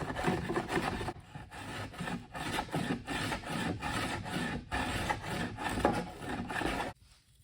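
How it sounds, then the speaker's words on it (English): Hand sanding of a hollow wooden rowing oar about 9 feet long, made of wood, with a steady rasping stroke repeated back and forth, close and fairly loud, ending in a brief quiet. "I'll just sand this down a little bit"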